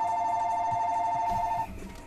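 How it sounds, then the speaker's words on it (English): A telephone rings in the video game Danganronpa 2, a steady electronic trill that continues loudly and then cuts off near the end, leaving faint background sound. "I'm gonna wait for the phone to die off."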